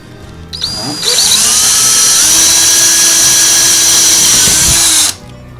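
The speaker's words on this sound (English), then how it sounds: "what I do is I drill a hole to match the size of a dowel rod" A cordless drill bores a dowel-sized hole, whining up to full speed and running steadily for about four seconds, loud and close, then winds down.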